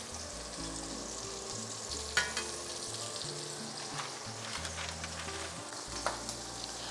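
Shrimp fry in hot oil during a second frying, giving a steady, close sizzle with soft bubbling and a few light clinks and pops, with no voices.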